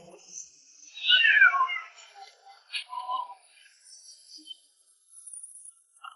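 Mutated cats meow as a dramatic sound effect in an animated post-apocalyptic fantasy. One loud, falling meow stands out early, followed by fainter, scattered cat cries and quiet sounds through the rest.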